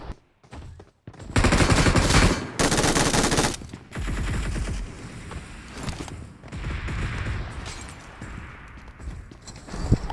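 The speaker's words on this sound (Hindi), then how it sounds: "उतने में पीछे से फायर आया" Loud automatic gunfire from the Battlegrounds Mobile India battle-royale game, with dense close bursts early on followed by scattered shots and rattling fire, heard without speech.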